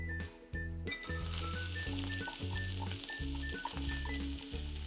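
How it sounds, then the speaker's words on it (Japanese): Carrots stir-fry in oil in a frying pan over medium-low heat, a steady close sizzle that swells loud after a quiet start, with occasional soft stirring scrapes. "フライパンに火つけて人参をじっくり炒めていく"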